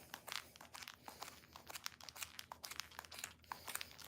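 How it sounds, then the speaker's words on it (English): Scissors snipping through yarn while a pompom garland is made, giving a quick run of crisp, crinkly cuts and rustles, close and fairly soft, with no talking. "Man, I could use some sharper scissors."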